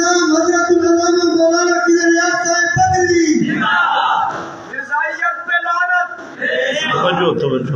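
A large religious gathering chants slogans in loud, sustained unison, voices swelling and overlapping in a dense roar that dips briefly and then rises again.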